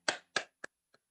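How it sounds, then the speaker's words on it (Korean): A few sharp hand claps in a church prayer meeting, four distinct claps close together, the first two strong and the last two lighter and fading, with no crowd applause swelling around them. "하나님께 영광의 박수 올려드리겠습니다."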